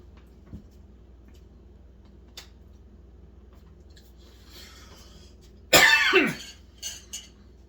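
In a quiet room, one sharp, harsh cough rings out close by, followed by a couple of smaller throaty coughs.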